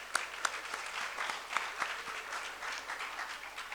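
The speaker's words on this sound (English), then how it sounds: "let's wish all of them good luck and give them a round of applause." An audience applauds quiz contestants at the Rajasthan cluster finals of a campus quiz competition, a moderate, continuous patter of many hands with a few louder individual claps standing out.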